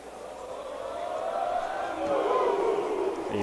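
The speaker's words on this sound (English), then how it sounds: "A loud, booming chant in the crowd here" A loud, booming chant swells from the stands of a large crowd at a Canadian youth football gold medal game between Quebec and Ontario, a sustained roar that builds steadily and stays strong.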